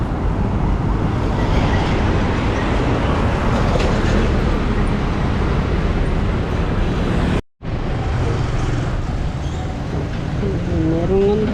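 The Riverbanks Center Express train rumbles past close by in Marikina, loud and continuous with rattling wheels, briefly cut off midway before the roar resumes.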